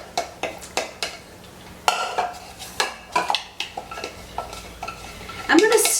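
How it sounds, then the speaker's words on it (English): A spoon stirs a ricotta, Parmesan and mozzarella filling in a bowl, with repeated quick scraping and clinking strokes in an uneven rhythm, close and clear. "I'm going to give this a stir"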